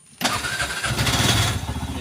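An auto rickshaw engine is started by hand, catching abruptly and settling into a loud, steady, close chugging idle with no talk over it.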